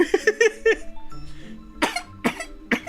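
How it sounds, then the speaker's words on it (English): A few short, sharp coughs in a quick cluster, then a pause and several more harsh coughs, close to the listener. "I have a bit of a cough and I don't like it."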